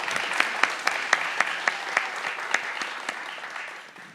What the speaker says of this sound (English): can y'all give them a round of applause for being here and presenting that to y'all?